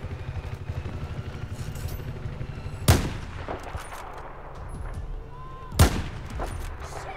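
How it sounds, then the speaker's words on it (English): Gunfire in the Battlefield 4 campaign during a dam assault: a continuous rattle of shots with two sharp, loud impacts standing out, close and harsh throughout. "Shit, they've seen us! That's kind of what I expected. Taking lots of shots."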